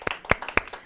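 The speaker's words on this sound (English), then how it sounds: "A massive round of applause for Danny Grew." At a fair, a few sharp hand claps ring out close by in quick succession, about three distinct strikes in under a second, sparse rather than a full crowd.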